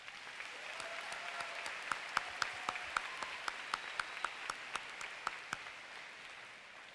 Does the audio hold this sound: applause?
yes